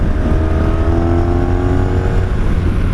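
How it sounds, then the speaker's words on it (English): A 1983 Honda Shadow VF750S V4 motorcycle cruises along with a steady, loud engine drone and a constant low rumble, heard from the rider's position with rushing air beneath. "So we're riding the 83 Honda Shadow, the VF750S that you saw yesterday."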